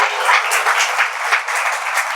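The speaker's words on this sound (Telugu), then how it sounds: "గట్టిగా చప్పట్లు కొట్టండి." A congregation at a gospel meeting claps loudly and continuously, a dense close patter of many hands with no talk over it.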